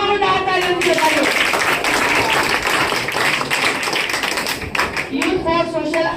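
Sustained applause from an audience at a Republic Day youth social group event, a dense, close crackle of many hands clapping for several seconds with voices mixed underneath.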